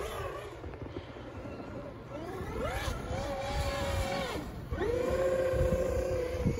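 A Traxxas X-Maxx RC truck runs through deep snow, its electric motor whining up and down in repeated revving sweeps that grow louder near the end, with some talk mixed in.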